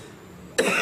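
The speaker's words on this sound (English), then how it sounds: "Cough, cough, cough." A single harsh cough bursts out close by near the end, after a stretch of low, quiet background; the setting is southern Africa, where dust-related lung disease is common.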